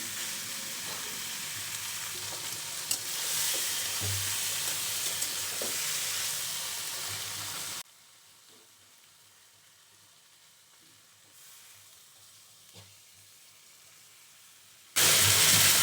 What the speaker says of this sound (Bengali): বন্ধুরা এখন কাঁকরোল আর কাঁচকলাটাকে ভালো করে কষিয়ে নিয়ে